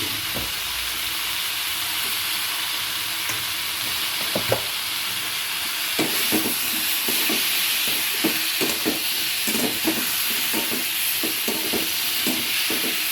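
Vegetables, including pointed gourd, sizzle steadily in hot oil in a wok. Repeated rhythmic scraping clacks from stirring run through the second half, close and fairly loud, with no talk.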